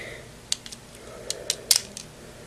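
Plastic parts of a Transformers Recon Ironhide toy leg fold into place during transformation, giving a few sharp, close clicks and snaps in quick succession over a quiet background.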